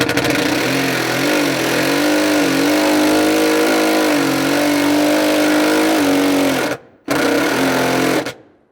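Power driver with a 10mm socket whirs steadily as it runs a bolt into a nut insert in a 4th Gen 4Runner floor, then cuts off and gives one short final burst.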